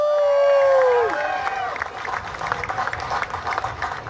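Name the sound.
audience applause and cheering for team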